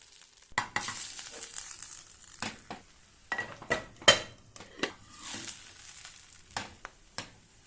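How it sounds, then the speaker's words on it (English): Potato rösti browning in butter in a pan, with a soft sizzle broken by intermittent close scrapes and clinks of a utensil against the pan, no talking. "Now I add some butter around the edges and let it brown on that side."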